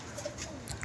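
Pigeons at a pigeon club give soft, low cooing murmurs over a faint room hum, the calls brief and close in a short moment with no talking.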